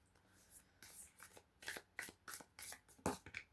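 A deck of tarot cards shuffled by hand, a quiet, close series of quick riffling bursts and soft slaps with brief pauses between them.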